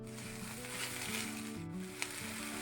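Capsicum and mung dal fry in a pan, giving a steady close sizzle with a low tonal hum running beneath it and one brief clink near the end.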